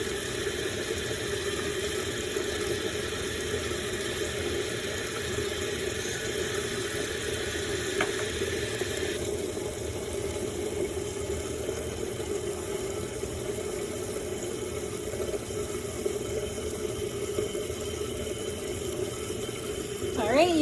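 A water aspirator runs for vacuum filtration in a chemistry lab, giving a steady, even rush of flowing water with a low continuous hum, close and unchanging throughout.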